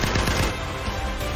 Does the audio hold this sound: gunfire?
yes